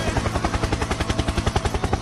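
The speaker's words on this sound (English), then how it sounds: "Helicopter, helicopter." A loud helicopter sounds up close with fast rhythmic rotor thumps pulsing evenly over a broad mechanical roar, and no voices are heard.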